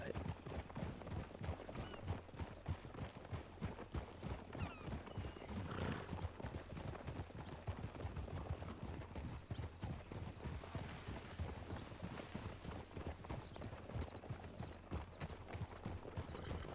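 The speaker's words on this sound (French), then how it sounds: "Il y a des chevaux." Several horses walking on a hard surface, hooves clip-clopping in a steady, continuous rhythm close by for the whole stretch, with faint voices in the background.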